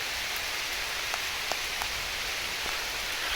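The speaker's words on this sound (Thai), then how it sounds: "ฝนตกด้วยนะครับ" Steady rain falls across an outdoor spot where eel traps are being set, a dense continuous hiss with scattered sharper drops, moderately loud and without voices.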